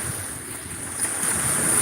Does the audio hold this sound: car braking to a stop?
no